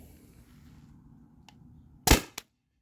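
A Tippmann TPX paintball pistol fires on a CO2 tank, one sharp loud pop followed by a shorter second crack, after a quiet stretch with faint background noise.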